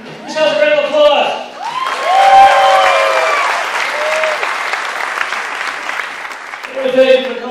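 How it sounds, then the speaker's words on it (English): Audience applause at a screening and small show taping, with clapping mixed with shouts and whoops from the crowd, tonal voices rising over it at the start and again near the end. "Let's have a round of applause."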